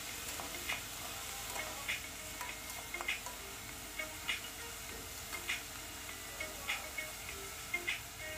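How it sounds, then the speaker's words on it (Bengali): Cauliflower being stirred in a frying pan over a medium-low gas flame, a soft steady sizzle with light scraping ticks of the spatula recurring every second or so, fairly quiet and close, no talk. "ফুলকপিটা দেওয়ার পর আমি ভালোভাবে নাড়াচাড়া করে নেব।"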